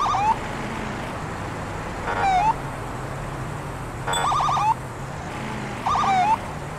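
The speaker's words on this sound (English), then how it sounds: "Let's see if they'll obey my siren." Police car siren in the video game Police Simulator: Patrol Officers, sounding in short repeated whooping bursts roughly every two seconds over a quiet engine hum.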